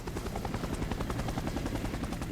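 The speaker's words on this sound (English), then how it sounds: "I hear a helicopter." A helicopter in the Resident Evil: Operation Raccoon City video game chops steadily with fast rhythmic blade thumps, moderately loud and continuous.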